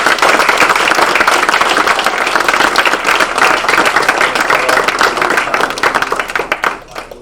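Sustained, loud applause fills the room at a Rotary installation of officers as a past president is honoured, dense clapping from a large audience that holds steady and then tapers off at the end.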